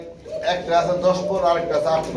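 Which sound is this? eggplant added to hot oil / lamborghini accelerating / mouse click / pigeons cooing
pigeons cooing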